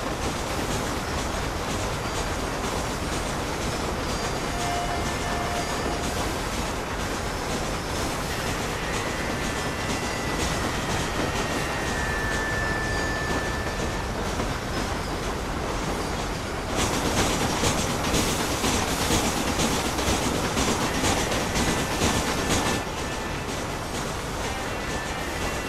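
Train riding along the tracks in the Red Dead Redemption video game, a steady loud rumbling roll with faint clatter that swells louder for several seconds near the end, with no talking.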